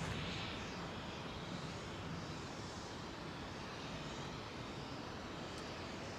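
A large jet airliner departs overhead from runway 09R at London Heathrow, its engine roar a loud, steady broadband rumble that fills the whole stretch without fading, with no voices.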